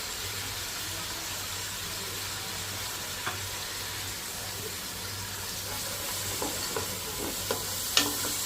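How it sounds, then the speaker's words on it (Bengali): Vegetables sizzle gently in a pan as they are stirred continuously, with soft scraping clicks and taps from the spatula growing more frequent toward the end. "সবজিগুলোকে অবশ্যই আপনারা এভাবে নাড়তে থাকবেন যেন পোড়া লেগে না যায়।"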